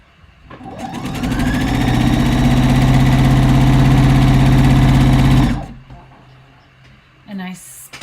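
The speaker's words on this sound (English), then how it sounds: "now I'm going to sew the rest of it" A sewing machine stitches a robe jacket closed in one long, even run of several seconds, its motor hum steady and close, then stops, followed by a brief handling sound.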